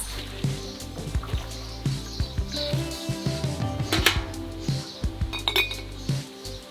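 Glass jars clink and knock together as they are scrubbed in a basin of well water, a close, irregular run of bright taps with soft water trickles between them and no voices.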